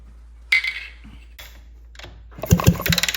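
A 1974 Suzuki RL250 motorcycle engine, sitting unused for 45 years, turns over in a few short, separate cranking bursts, ending in a louder rapid chugging sequence.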